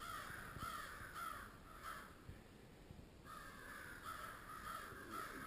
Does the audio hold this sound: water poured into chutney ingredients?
no